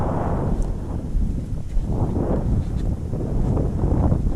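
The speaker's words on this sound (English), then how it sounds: "Sorry if it's a little windy." Steady wind buffets the microphone with a continuous low rumbling roar that swells and fades slightly, with no voices.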